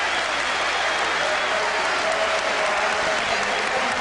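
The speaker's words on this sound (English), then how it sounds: "He gets applause from his manager on the bench and from the Tottenham fans as well." A large football stadium crowd of Tottenham fans claps steadily, a dense, unbroken wash of applause that holds at the same level throughout, with faint cheering mixed in.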